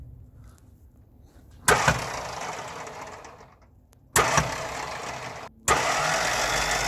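Starter on a 1958 Mack B-21 fire truck that sat for 30 years is bumped three times, each a loud, abrupt burst of cranking that churns for a second or more before cutting off over a quiet background.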